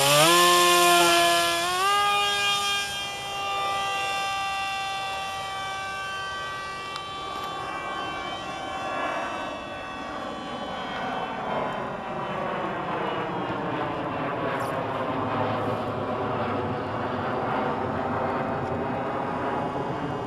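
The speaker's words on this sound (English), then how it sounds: "put a motor on a little paper airplane and fly" A small electric motor on a large radio-controlled paper airplane whines steadily as it flies, its pitch rising early, then drifting and changing as the plane passes, loud and continuous with no talk.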